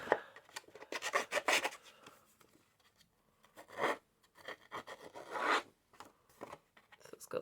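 A small bladed trimming tool dragged repeatedly around the edge of paper, giving short raspy scraping strokes in irregular bursts separated by quiet pauses, close and distinct.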